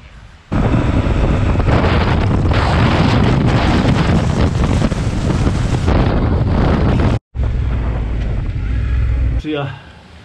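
Strong wind buffeting the microphone outdoors, a loud roaring rumble that kicks in abruptly and blows continuously for most of ten seconds, with a momentary dropout and lighter gusting near the end.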